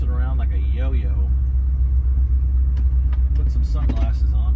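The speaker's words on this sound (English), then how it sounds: "we're going to take this thing for a little bit of a spin around the neighborhood" A 1966 Ford Thunderbird drives around a neighborhood, its engine giving a steady low rumble that runs throughout, with people talking over the drive.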